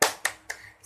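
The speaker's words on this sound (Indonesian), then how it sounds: "Tepuk semangat." A school class clapping a quick 'tepuk semangat' rhythm routine, three crisp claps in rapid succession, close and loud with no voices over them.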